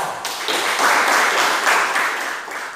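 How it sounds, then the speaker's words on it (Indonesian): A classroom gives a short burst of applause for a correct answer about a car's cooling system fault, many hands clapping together for under three seconds, loud and steady. "Kita beri tepuk tangan"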